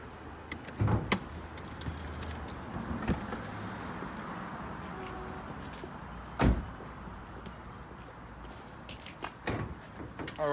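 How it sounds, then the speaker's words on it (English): A Nissan Dualis with a 2-litre four-cylinder engine gives a couple of dull door clunks against a steady outdoor hiss, with faint movement noises in between and no talking. "I'll jump out and show you underneath the hood"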